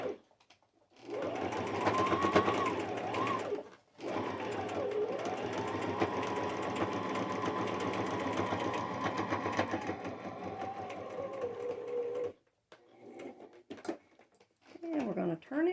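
A sewing machine stitches fabric in two long, steady runs of rapid mechanical whirring, with a brief pause between them and a few quieter clicks and handling sounds near the end.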